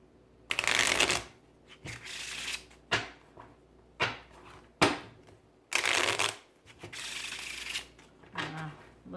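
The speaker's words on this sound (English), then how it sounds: "I'm gonna go ahead and give them a shuffle" Homemade printed game cards are shuffled up close in several separate bursts of riffling and sliding, each lasting about a second, with short pauses and soft handling noises in between.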